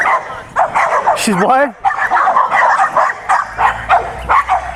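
A dog barks and yips in short bursts, with a sharp rising whine mid-clip, close by and mixed with people talking over it.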